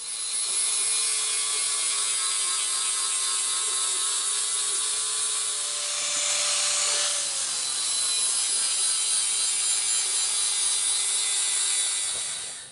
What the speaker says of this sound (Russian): будем их шлифовать и время от времени ставить и проверять